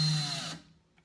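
A drill fitted with a 1/8 inch bit whines loudly at a high pitch for about half a second, then cuts off and winds down to near silence.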